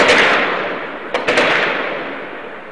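Army gunfire during a nighttime street battle on a bridge in Cairo, heard as a few sharp cracks echoing in a loud, reverberant outdoor space against a steady roar of background noise.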